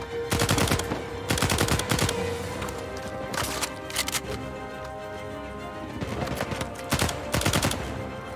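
Automatic gunfire from the video game Uncharted 4 comes in repeated loud rapid bursts, with short gaps between volleys over several seconds.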